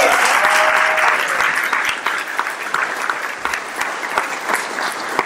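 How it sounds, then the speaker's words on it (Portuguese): Dense applause from an audience fills the hall, steady and loud with sharp individual claps throughout, fading slightly toward the end. "uma salva de palmas para ela"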